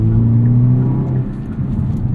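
A 2022 Hyundai Elantra N with a DCT gearbox accelerates in full N mode, its engine droning loudly from inside the cabin, then easing slightly partway through as though shifting before the note settles again.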